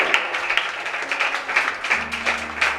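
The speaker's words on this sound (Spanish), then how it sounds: "dale un aplauso al Señor, hermano" A church congregation applauds during a worship service, with a short spell of steady, moderately loud clapping over a low background hum.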